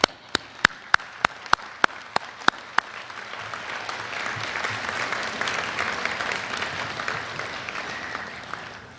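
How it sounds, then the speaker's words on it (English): Audience at a San Joaquin College of Law ceremony breaks into applause, opening with a few sharp separate claps that quickly swell into steady, dense clapping from a large crowd filling the room. "give a big round of applause to everybody here that is"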